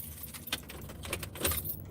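Keys jangle up close inside a truck cab, a run of light metallic clinks and rattles lasting a couple of seconds, quiet and alone without talk.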